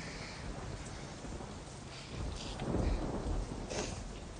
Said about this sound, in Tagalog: Malakas ho ang bagyo sa labas.